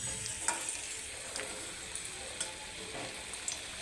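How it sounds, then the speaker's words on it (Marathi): Washed amla (Indian gooseberries) sizzle and fry in ghee, a steady close crackle with sharp pops and occasional stirring scrapes. "तुपामध्ये असे मी फ्राय करून घेते स्वच्छ धुवून घेतलेले"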